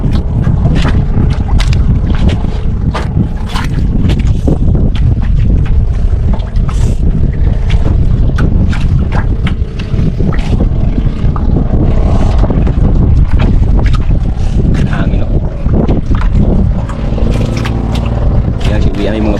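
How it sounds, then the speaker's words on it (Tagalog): Fishing boats motor across open water while strong wind buffets the microphone in a constant roar, with scattered knocks and splashes throughout. "Yan yung mga bangka"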